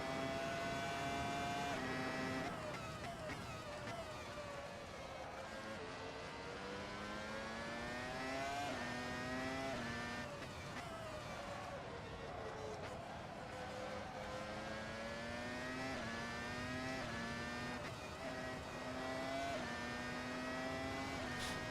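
A 1999 Formula 1 race car engine in the Assetto Corsa racing game screams continuously, its pitch rising and dropping through gear changes and revs, loud and close throughout without talk.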